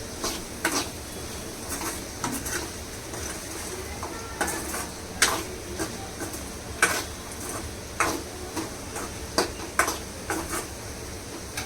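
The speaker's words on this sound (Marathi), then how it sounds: "चवीप्रमाणे मी टाकूया चांगलं हलवून घेऊया" A spatula stirs and scrapes potato bhaji for a Navratri fast meal in a pan, giving a steady run of close, crisp clicks and scrapes at an uneven rhythm with no talk.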